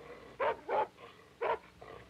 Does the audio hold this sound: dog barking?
yes